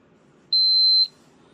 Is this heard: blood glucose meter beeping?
yes